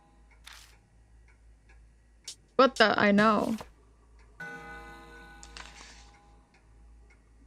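Clock in the Spirit Hunter NG video game after its long hand is spun, a quick run of rapid mechanical ticks and whirring near the end, with a person's brief exclamation just before.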